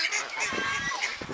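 Goose on its nest giving a short burst of harsh, nasal honks at close range, several rough calls over about a second with a person's voice nearby.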